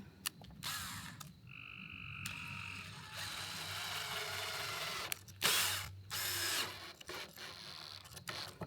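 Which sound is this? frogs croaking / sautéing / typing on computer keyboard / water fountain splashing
frogs croaking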